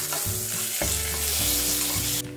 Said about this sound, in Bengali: ফোড়নটা একটু ফ্রাই করে নিচ্ছি।